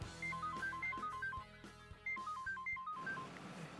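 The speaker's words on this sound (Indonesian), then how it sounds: "Bentar, nyokap gue telepon." A telephone rings indoors in a repeating electronic melody of short, bright tones, two loud bursts in a row, with no talk over it.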